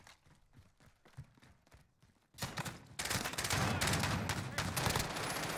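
Gunfire in the video game Warzone: after a quieter stretch of sparse thuds and scattered sounds, a loud burst of rapid shots erupts and continues densely to the end.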